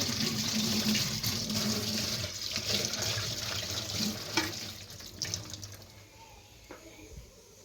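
Water runs steadily from a tap while dishes are washed, a loud, continuous gush with occasional clinks and splashes, fading slightly toward the end.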